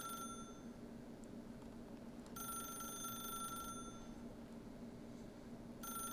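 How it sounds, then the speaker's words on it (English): A telephone rings repeatedly in The Stanley Parable, with steady electronic bell bursts that stop and start again over a constant low game ambience. "I'll wait another few rings, and then if it doesn't, I'll pick it up."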